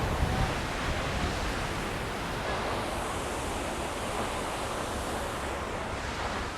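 Cold, wet wind blows steadily at Multnomah Falls in Oregon's Columbia River Gorge, a broad even rushing noise with no voices, blending into the roar of falling water.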